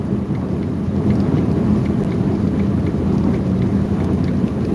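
Steady, loud rain with rumbling thunder throughout a severe thunderstorm in central Illinois, with a dense continuous low roar from start to finish.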